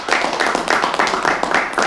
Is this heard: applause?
yes